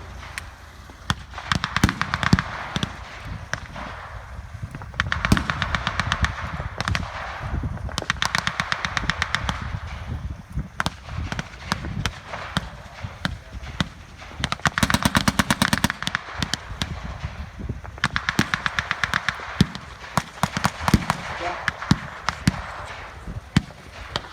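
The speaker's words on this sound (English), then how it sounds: "The artillery shells landing." Artillery shells land during a 1944 Normandy firefight amid dense, rapid bursts of gunfire and blasts, loud and continuous with repeated sharp cracks and heavier thuds.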